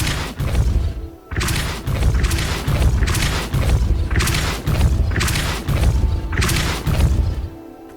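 Depulso, a force-pushing spell cast in the video game Hogwarts Legacy, lands as a run of loud, close booming crashes, each burst thudding in roughly regular succession with brief gaps between.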